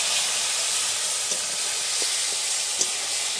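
A little water added to potatoes and spices frying in a pan gives a steady, loud steaming hiss, with a few faint clicks of a utensil scattered through it and no voices.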